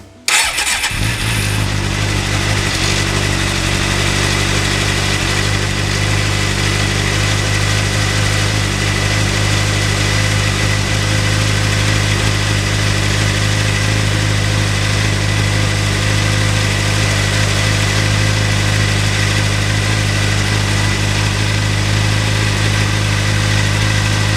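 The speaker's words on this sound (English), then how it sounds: "we'll start the bike up" A Suzuki GSX-R600 motorcycle engine cranks and fires, then settles into a steady, loud, close idle that holds evenly for over twenty seconds, with no one talking.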